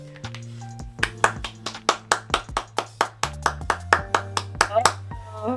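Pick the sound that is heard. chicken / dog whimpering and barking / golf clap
golf clap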